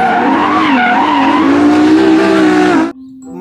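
Race car skidding from a toy car clip: a loud, continuous tire-squeal screech with wavering pitch lasts nearly three seconds, then cuts off abruptly into a faint hum.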